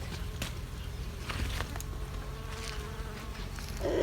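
A steady bee buzz hums close by among flowers in a village garden, continuous and moderately loud, with faint rustling and a few soft clicks in the background.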